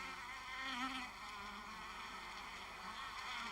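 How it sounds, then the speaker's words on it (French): Honeybees swarm in and out of a hive entrance, a dense, steady insect buzz hovering close with many wings overlapping, fluctuating gently in pitch and intensity throughout. "l'entrée de la ruche ou de la ruchette d'observation se transforme en un véritable aéroport où atterrissent et décollent sans arrêt les abeilles butineuses"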